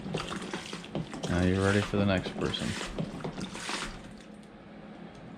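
A Thetford 365 portable cassette toilet is flushed by pulling its valve, water rushing and draining for a couple of seconds in a gurgling surge, mixed with someone speaking nearby.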